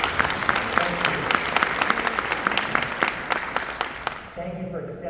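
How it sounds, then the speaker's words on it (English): Audience applause during a leadership talk, dense clapping from a large crowd with sharp individual claps standing out, fading near the end as a voice begins to speak. "Can we give them a round of applause?"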